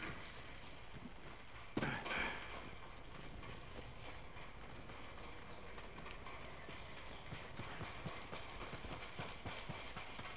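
Horses galloping in the video game Ghost of Tsushima, set in snow: a steady stream of rapid hoofbeats running throughout with one sharp louder burst near the start, at a moderate, even level.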